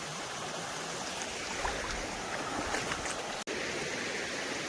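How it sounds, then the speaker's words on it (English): Fast-moving water rushes steadily through a small creek near a gravel bar, a constant close hiss and babble with no voices. "we got some fast moving water right here for a little creek"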